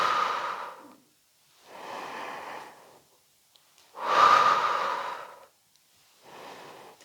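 Slow, audible exhales during a Pilates foam roller exercise come through as four separate breaths out with quiet pauses between them, close to the mic, with no talking.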